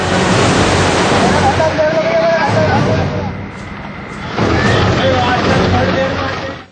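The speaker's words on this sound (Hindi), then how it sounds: "अब आपको दिखाते हैं कि 2 बजे रात में कैसे बाढ़ का पानी बेडरूम में घुस गया" Floodwater rushes and churns into a village house bedroom in Bijnor, Uttar Pradesh, at night: a loud, continuous broadband roar of surging water that dips briefly in the middle, then swells back, with no clear talk.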